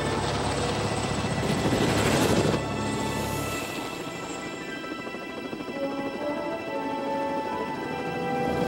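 A helicopter's rotor chop and engine whine fill the air over snowy, cold mountain terrain, loud and close at first, then settling into a steady drone.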